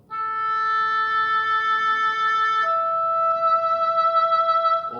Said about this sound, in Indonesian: oboe ini bunyinya seperti ini guys